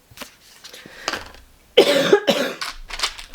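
A person with a tight chest coughs up close at a quiet table during a diamond painting craft session: a couple of sharp, loud coughs mid-clip after soft handling noises.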